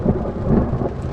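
Thunder following a lightning strike at a seaside weekend spot, a loud, deep, continuous rumble close by filling the whole moment, with faint rain behind it.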